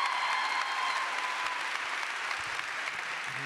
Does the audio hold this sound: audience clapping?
yes